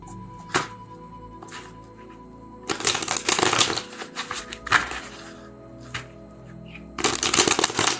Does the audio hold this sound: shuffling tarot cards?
yes